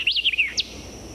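White-eyed vireo singing a snappy, jumbled phrase of quick rising and falling whistled notes, clear and close, followed by one short sharp note.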